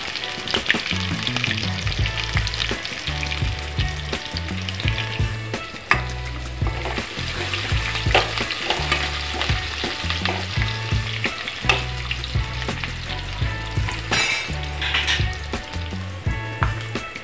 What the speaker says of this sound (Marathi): इथे कांदा लालसर येईपर्यंत मी चांगल्या प्रकारे परतून घेणार आहे